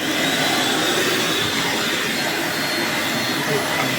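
A Grandt GD-1605 vacuum cleaner running close by, a steady loud whooshing roar that holds constant throughout.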